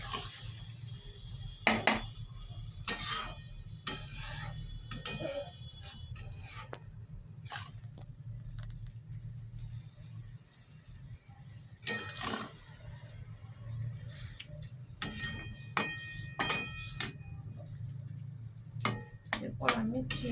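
Grated carrots and milk for gajar ka halwa are stirred in a pan, with intermittent scraping clinks of a spoon against the pan over a low steady background hum.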